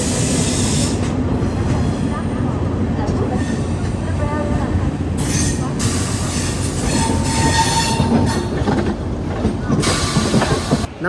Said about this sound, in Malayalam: നമ്മളിപ്പോൾ പോയിക്കൊണ്ടിരിക്കുന്നത് ഒരു റോഡ് കം റെയിൽ ബ്രിഡ്ജാണ് കേട്ടോ